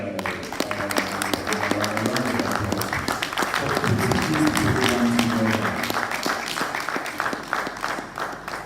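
An audience at the OOK Farms annual symposium applauding, a dense, steady wash of clapping that carries on for several seconds, with a voice faintly underneath.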